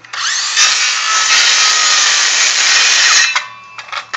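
A saw bites steadily through a wooden storage shed roof rafter, cutting the birdsmouth notch in one loud, close, continuous pass that stops abruptly near the end, followed by a few short scraping sounds.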